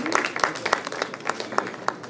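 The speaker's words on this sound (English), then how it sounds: "Let us give him a resounding applause." Audience applause at a medical college CME conference, with distinct claps ringing out in a loose, sparse rhythm across the room, moderately loud and steady throughout.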